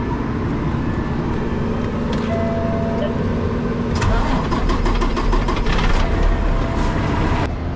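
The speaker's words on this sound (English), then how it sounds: "I'm gonna go ahead and start this truck up," A heavy truck engine, near a crane loading job, cranks and catches, then settles into a steady loud diesel-like rumble, with a rattling burst as it starts and voices faintly beneath.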